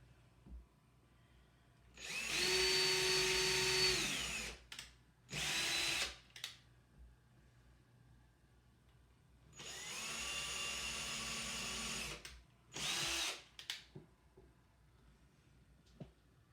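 Power drill driving screws into a wooden piece on a dining room table, heard as two pairs of bursts: a longer whirring drive followed by a short second spin, each pair separated by quiet, close and loud.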